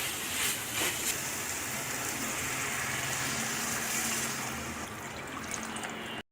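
Water pours steadily into a pan while semiya upma is being cooked, a continuous splashing gush that stays fairly loud, then stops abruptly at the end.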